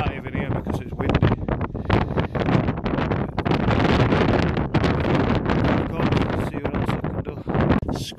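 Heavy storm wind buffets the microphone in loud, gusty rumbles that last the whole stretch, with faint voices underneath.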